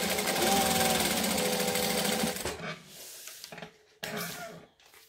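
A sewing machine stitches down the side of a pocket in a rapid, steady whir for about two and a half seconds, then stops, leaving faint handling noises and a brief restart of the motor near the end.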